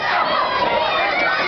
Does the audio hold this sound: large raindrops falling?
no